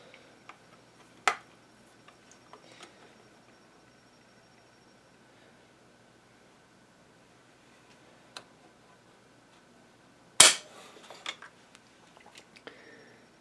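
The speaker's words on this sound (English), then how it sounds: "So here's the stock PS90 trigger pull." A stock PS90 rifle trigger is pulled in a quiet room, giving a few sharp mechanical clicks, with one louder snap near the end, close up and otherwise silent.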